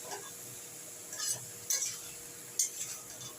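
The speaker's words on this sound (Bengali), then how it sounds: "আমি একটু গরম জল দিয়ে এটাকে একটু নাড়াচাড়া করবো, মশলাটা যাতে এর সঙ্গে মেশে।" A vegetable curry stirred in a pan after hot water is added, giving a soft, low sizzle broken by three brief metallic scrapes of the spoon against the pan.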